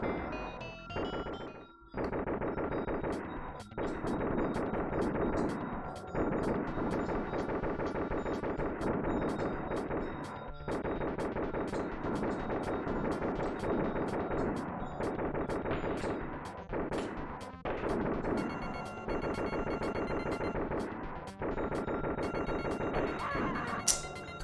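Rapid, repeated pistol shots fire in bursts over a dense electronic soundtrack in the SNES game Gunforce, with brief gaps between volleys.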